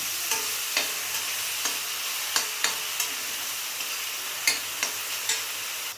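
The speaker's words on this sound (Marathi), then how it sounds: "टमाट्याची पेस्ट टाकून घ्यायची आता ह्या मसाल्यांना तेल सुटेपर्यंत परतून घ्यायचं" Spices and tomato paste frying in oil for chole, with a steady broadband sizzle and a spoon scraping the pan in sharp, regular stirring strokes about every half second.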